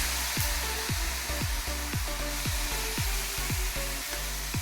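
Handvo batter hits a hot pan and sizzles loudly and evenly, with a low, regular rhythmic pulsing running under the hiss.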